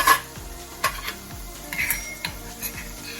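Gram flour and ajwain being stirred in a pan, with repeated scrapes and light metallic clinks of a spoon against the pan over a soft sizzle.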